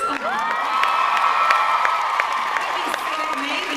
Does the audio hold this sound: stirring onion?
no